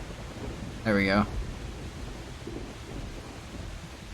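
Steady rain hisses throughout in a Project Zomboid game scene, with a brief tonal game sound near the start rising above the downpour.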